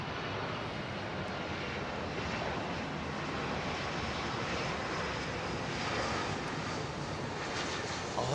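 A Saudi Arabian Airlines airliner in retro livery gives a steady, wind-like jet roar at moderate loudness that holds evenly from start to finish, with no talking.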